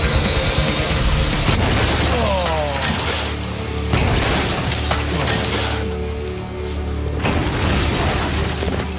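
A van smashing into a Volkswagen Passat in a staged crash test: loud booming impacts and crunching metal, with bursts of clatter and grinding debris across several seconds, close and very loud.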